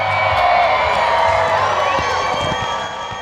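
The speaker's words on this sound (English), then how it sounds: "Big Oak Ranch, one time, let me hear you scream." A rodeo crowd at Big Oak Ranch screams and cheers together, a loud dense wash of whoops and shouts that holds strong and then eases slightly at the end.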